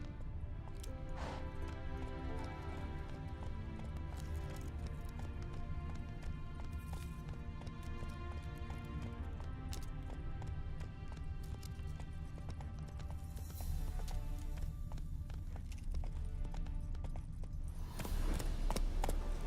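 Roach the horse gallops in The Witcher 3, a steady clip-clop of hooves running under a constant bed of game music.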